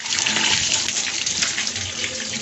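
Water runs steadily from a tap or shower for bathing, a continuous close hiss with no break and no voices.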